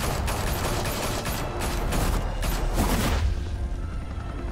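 Dense gunfire from a shootout in the Batman Telltale Series video game, a continuous loud crackle of rapid shots with metallic clatter, easing off toward the end.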